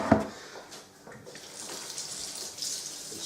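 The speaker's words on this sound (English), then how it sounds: "Let's rinse off my hand a minute." Running tap water splashes over a hand being rinsed after handling fermenter trub while homebrewing, a brief loud splash at the start, then a softer, steady hiss of flowing water.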